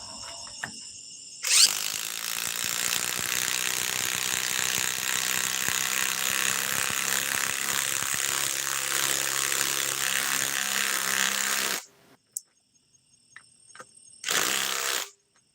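Impact wrench with a socket tightening a bolt, heard as a loud, sustained rattling hammering burst of about ten seconds. It stops abruptly, followed by a brief second burst after a short quiet gap.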